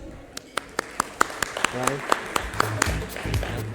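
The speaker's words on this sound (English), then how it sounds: "may I have a big round of applause for the panelists?" Audience applause for debate panelists at a leadership conference, heard as a run of sharp, evenly spaced claps rising over a crowd murmur, with someone speaking briefly partway through.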